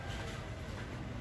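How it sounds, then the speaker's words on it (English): A toy train running up and down a Christmas tree gives a faint, steady rumbling clatter, continuous and a little distant, with no talk over it. "train that goes up and down the tree"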